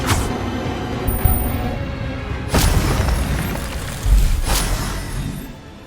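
Spell-casting blasts from the game Hogwarts Legacy: two loud, sharp bursts spaced a couple of seconds apart over a steady bed of rumbling game noise, with no talk.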